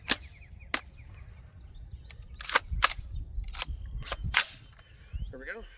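Breek Arms Breek Lok rifle firing rounds down range: about eight sharp, irregularly spaced cracks heard from some distance over steady outdoor rumble, ending in a brief mechanical rattle.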